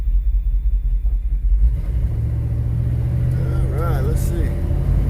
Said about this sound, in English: Let these cars go by and then we'll pull out.